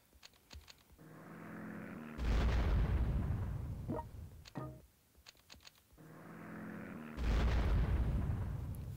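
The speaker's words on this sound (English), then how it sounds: "Gonna break these defenses apart, because now we can throw the nukes." Nuke bombardment in the video game Desert Storm, with two heavy booming explosions that swell and rumble, each preceded by sharp clicks and a rising tonal whine.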